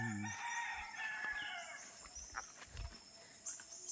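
Chickens cluck and a rooster crows faintly in the distance, set against rural outdoor background noise in the Philippine provinces with scattered low thumps.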